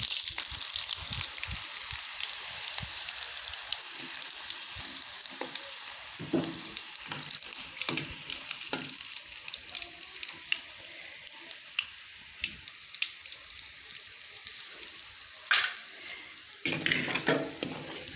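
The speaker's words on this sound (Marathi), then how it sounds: "भरपूर खरपूस कडक होईपर्यंत तळून घ्यायच्या" Leftover chapati pieces deep-fry in hot oil until crisp, a steady bright sizzle and crackle throughout with scattered soft clinks and pops from stirring, no voices.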